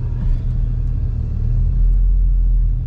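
A BMW with a swapped-in DCT gearbox and single-mass flywheel idles in reverse, giving a steady low engine rumble throughout, close and fairly loud, with no talk.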